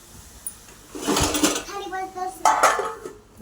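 A metal lid clatters onto a cooking pot of potato chips on the stove, a couple of ringing clinks and scrapes, while someone speaks over it.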